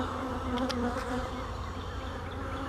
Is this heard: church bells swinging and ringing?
no